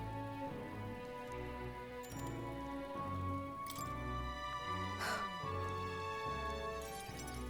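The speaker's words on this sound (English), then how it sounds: "Oh, I hate the rain." Steady rain falls in Metaphor: ReFantazio, a soft continuous patter mixed under quiet game ambience and music, with a few faint clinks along the way.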